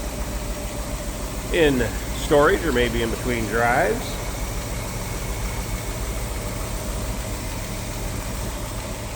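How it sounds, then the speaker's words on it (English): A 1964 Ford Thunderbird two-door hardtop's V8 idles with a smooth, quiet, steady low hum, while someone talks briefly over it. "Man, you talk about a smooth, quiet running V8."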